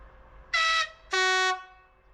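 A 2TE116UM diesel locomotive on a Mongolian railway sounds its horn twice: a short, loud, piercing tone followed after a brief pause by a longer, slightly lower blast, with no other sound around it.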